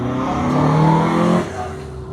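A classic car spins its tyres at the Kop Hill hill climb, a loud close engine roar with squealing rubber that peaks and then drops away as the revs fall.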